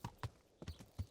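Horse hooves clip-clop faintly in Kingdom Come Deliverance, a few soft, evenly spaced hoof thuds at a walking pace.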